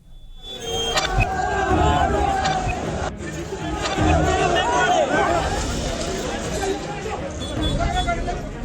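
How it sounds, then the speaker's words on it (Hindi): Protest crowd at a district collectorate in Rajasthan shouting and clamoring during a police baton charge, a dense, loud roar of many voices with yells rising over continuous babble throughout. "कलेक्ट्रेट पर भीड़ बेकाबू हो गई"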